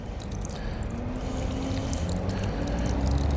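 Water poured into a deck mud mix of coarse crushed rock makes a steady, close trickling pour that continues unbroken throughout at an even level.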